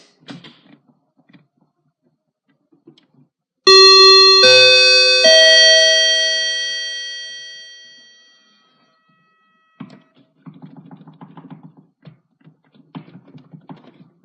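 A Norwegian cruise ship muster drill chime rings out as a loud multi-tone electronic chord that decays slowly over several seconds, followed by a pause and then a person talking.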